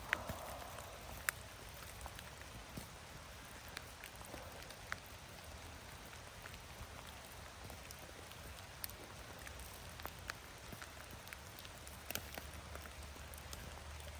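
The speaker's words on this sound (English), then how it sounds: "this rain hasn't subsided at all. It's returned." Steady rain falls softly in a forest, with scattered drips ticking against a surface over a low, even hiss.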